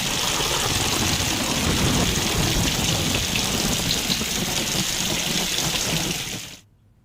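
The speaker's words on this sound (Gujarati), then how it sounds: "રાજ્યમાં આજથી ચોમાસાની એન્ટ્રી થઈ ગઈ છે." Steady monsoon rain falls in Gujarat as a dense, hissing patter that holds constant for several seconds and then cuts off abruptly near the end.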